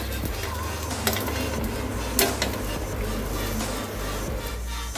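Rice flour pudla frying in oil on a pan over medium flame, a soft, steady sizzle close by with a couple of faint utensil clicks, no voices.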